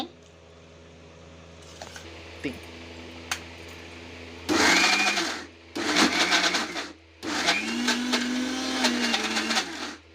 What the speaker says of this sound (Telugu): ఇదైతే మిక్సీ పట్టుకోవాలి